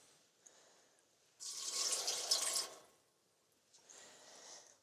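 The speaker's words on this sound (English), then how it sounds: "and in comes some water" Water is poured into a natural dye pot holding dried dye material in two splashing bursts, a longer loud pour followed by a pause and a shorter, softer one, against a quiet room.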